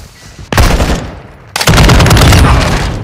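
Loud, close automatic gunfire in Call of Duty DMZ: a short burst, a brief pause, then a longer sustained volley that runs to the end.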